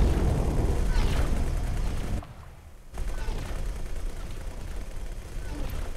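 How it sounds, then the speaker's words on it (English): Ships trading weapons fire in the space game X4: Foundations, a dense rolling barrage of blasts and impacts that dips briefly, then resumes under a steady loud rumble. "Yeah, they started firing."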